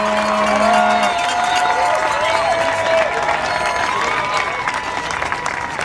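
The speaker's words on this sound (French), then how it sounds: "Applaudissez-les," An audience applauding steadily and loudly, dense clapping that carries on throughout, with a short sustained tone at the start and a few faint higher tones above it.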